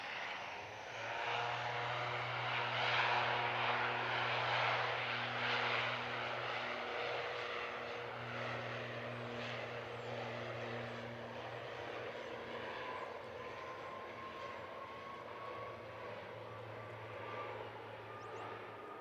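An ATR turboprop airliner takes off at Christchurch International Airport, its steady propeller drone and engine roar sustained and moderately distant throughout, with no talk.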